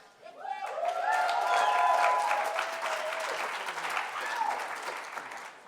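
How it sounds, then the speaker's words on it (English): Applause rises from the audience at a health conference closing session, swelling quickly and holding at moderate loudness while a voice talks over it. "Let's hold the applause till we get through everybody"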